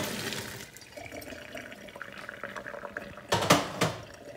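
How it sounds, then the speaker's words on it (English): Cold tap water runs over potatoes in a colander in a home kitchen, a steady close splashing stream with a couple of louder gushes near the end. "we're going to run the cold water right over them"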